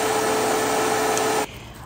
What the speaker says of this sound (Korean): 5초에서 10초 정도의 시간으로 이거를 그라인드 하면은